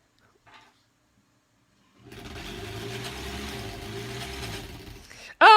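A sewing machine stitches a granny squares quilt, running in one steady, moderately loud stretch of about three seconds after a near-silent pause, then stopping with a sharp click.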